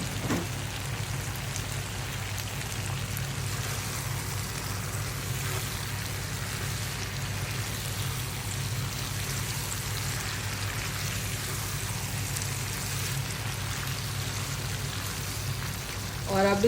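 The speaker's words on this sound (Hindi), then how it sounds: "और अब हम ऐड करेंगे इसके अंदर अपनी भिंडी।" Okra sizzles steadily in a pan of chicken masala, an even crackling, rain-like hiss that holds at a constant level throughout, close by with no clear talk.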